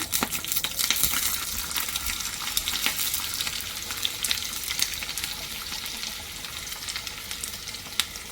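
Garlic frying in hot ghee in a small tadka pan, a steady close crackling sizzle with sharp pops throughout.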